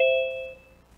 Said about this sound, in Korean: 딩동댕 소리가 계속 나네요